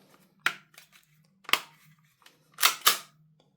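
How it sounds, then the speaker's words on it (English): An Action Army AAP-01 airsoft pistol fitted with a Nexxspeed trigger and magazine release gives four sharp, close mechanical clacks. The first two are spaced apart and the last two come in quick succession over a faint hum. "So the pistol's cocked,"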